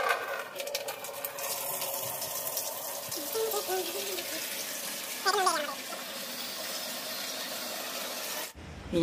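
A room floor is washed with water and scrubbed by hand: steady splashing and running water with rough rubbing strokes, fairly close, plus a brief stronger scrape midway.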